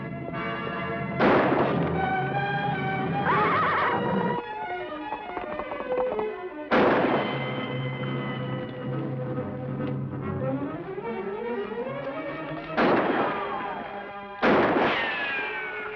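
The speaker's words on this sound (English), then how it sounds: "I wonder who's firing at us" Gunshots fired at riders in a Western setting ring out as a few loud, booming reports at irregular intervals. Each shot rings out briefly over a thick orchestral music score.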